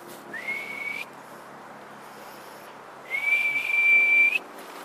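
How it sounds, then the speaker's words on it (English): A person whistles outdoors in the woods: two sustained, steady whistled tones, the first short and moderate, the second longer and louder after a quiet gap with faint background ambience. "Can't whistle now, got no tea."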